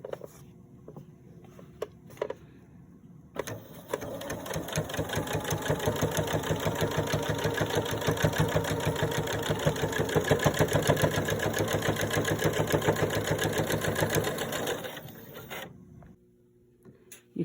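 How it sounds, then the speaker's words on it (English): A sewing machine runs in one continuous burst of rapid, even stitching while topstitching a zipper over a lumpy quilt remnant, preceded and followed by quiet handling clicks near the machine. "You can see that my top stitching came out as good as possibly can be over sort of a lumpy quilt remnant."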